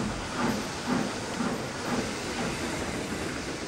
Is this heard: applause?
no